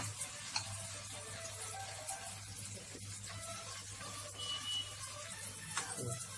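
Bengali-style malpua batter frying in hot oil, a steady close crackling sizzle that holds without pause, with occasional small pops and no talking.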